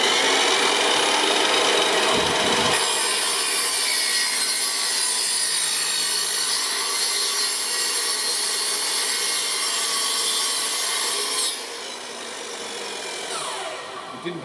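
Sanding a wooden shelf board by hand: a steady, close, raspy rubbing that runs continuously for about ten seconds, then eases off and stops, with no talking.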